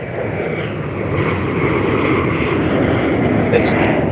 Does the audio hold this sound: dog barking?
no